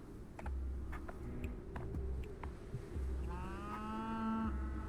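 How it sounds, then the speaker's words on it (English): Cattle moo in the video game Pathologic 3: a long low bellow, then a higher drawn-out moo near the end, over a faint ambient hum and scattered clicks. "It made cow noise."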